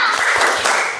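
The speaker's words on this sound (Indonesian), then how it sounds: "kita tepuk semangat terlebih dahulu ya, biar tambah semangat" A classroom of students performs the rhythmic 'tepuk semangat' spirit clap together, a loud, close burst of patterned hand claps lasting about a second.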